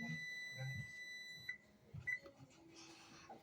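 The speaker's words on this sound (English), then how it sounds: "kitchen timer just turned off" A thin electronic beep sounds from a kitchen timer, a few short tones against a quiet room with faint rustling and movement.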